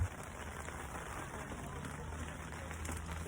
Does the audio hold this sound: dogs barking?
no